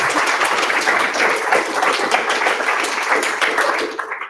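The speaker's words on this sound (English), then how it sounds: "Please, a round of applause." Audience at a React London tech meetup talk held at The Guardian clapping, a steady crowd round of applause that fades out at the end.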